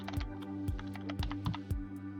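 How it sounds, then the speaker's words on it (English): Quick keystrokes on a computer keyboard, about a dozen close clicks in an uneven burst over a low steady hum, with no voices. "let me type this in real quick"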